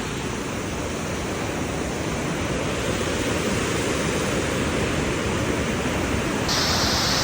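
Loud, constant rushing of water from a large mountain river and the Probiy waterfall in Yaremche, a dense roar with no pauses.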